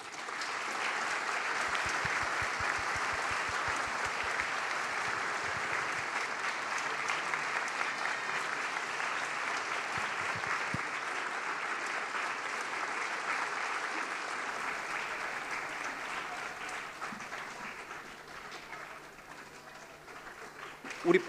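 Sustained applause from a church congregation at a Christmas thanksgiving service at the Saigon Korean Union Church, steady clapping filling the hall for about twenty seconds before thinning out near the end.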